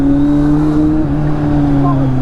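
Road traffic surrounds a 2025 Triumph Scrambler 400X motorcycle, a steady low engine drone and rumble of nearby vehicles throughout, with a brief rising tone near the end.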